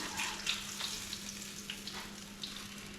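Fish frying in a pan, a soft, continuous sizzle with small crackles and pops, fairly quiet and close, with no talking.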